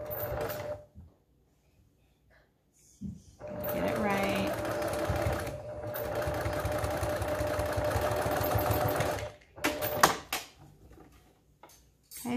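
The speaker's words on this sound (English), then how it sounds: "I'm gonna sew it pretty close to the edge of that tie casing." A sewing machine stitches close to the edge of a tie casing on a 3D face mask with a polypropylene liner, running in a steady, close whir for several seconds after a short start, with brief quieter gaps around it.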